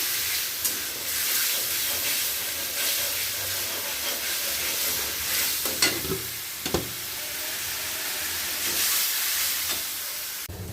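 Rice comes to a boil in a pot on a home stove, giving a continuous steamy hiss and bubbling. A few scattered clinks and stirring knocks break in, with no talk.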